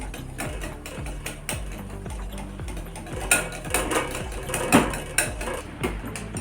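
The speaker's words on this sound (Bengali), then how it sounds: "টক দইটাকে আমি ভালো করে ফেটিয়ে নিব অনেকক্ষণ ধরে" Sour yogurt whisked in a bowl for homemade mishti doi, a steady run of quick rhythmic taps and scrapes with a few louder clinks, close and clear with no voices.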